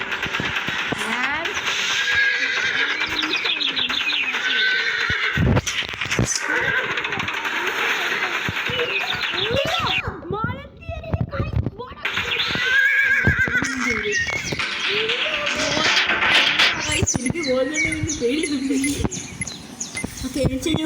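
Horse whinnies ring out repeatedly in a video game, loud and near, over busy in-game effects and a player's steady talk.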